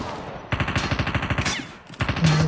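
Automatic gunfire in the mobile battle royale game Call of Duty Mobile, rapid even bursts of loud close shots with a short break before firing resumes.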